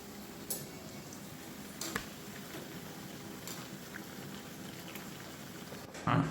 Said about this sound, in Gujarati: હવે આપણે આને ગેસ પર લઈને ઉકાળી લઈશું,